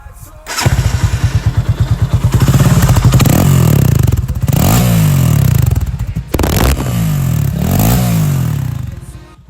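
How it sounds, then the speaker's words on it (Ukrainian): A Loncin CR4 motorcycle with a straight-through exhaust idles with a loud, throaty, rapid popping exhaust, then revs up several times and settles back, very close and dominating. "Хотів би вам ще показати звук мотоцикла."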